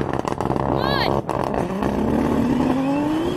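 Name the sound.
race car launching off the line with wheelspin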